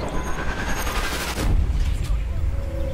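A rifle shot in the sniper game Sniper Elite 3 cracks out amid dense, rumbling battle noise, sounding heavy and close, with some background voice.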